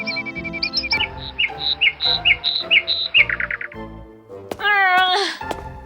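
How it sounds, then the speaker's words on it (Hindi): A bird squawks and chirps in quick, shrill bursts, close and loud, ending with a rising, drawn-out screech. "ये कितनी शोर मचाने वाली और तंग करने वाली चिड़िया है"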